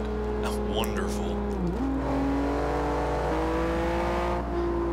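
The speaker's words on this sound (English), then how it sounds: "So that's the exhaust. I mean, it sounds wonderful." The exhaust of a 2015 Volvo S60 sleeper in Forza Horizon 2 revs and drones with rising and falling pitch, loud and close, while someone speaks over it.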